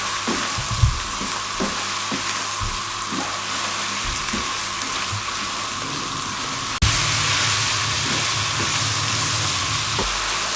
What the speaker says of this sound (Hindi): 5 मिनट जो बकाया हमारे बचते हैं इनको अच्छे तरीके से इसमें मसाले के अंदर अच्छे तरीके से भून लें।